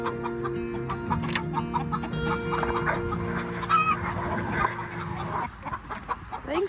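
Chickens in a mobile chicken tractor on grass cluck steadily nearby on a farm, with a few sharper calls over a low continuous background hum.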